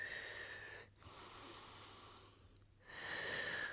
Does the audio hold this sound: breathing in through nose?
yes